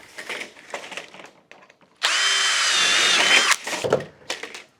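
A power drill pre-drilling holes to fit a garage door seal with an aluminium and brush strip, one loud steady whirring burst of about a second and a half, close up, between quieter handling noises.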